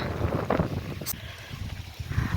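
Steady wind buffets the microphone, producing a low, rough rumble with gusty swells and no other clear sound.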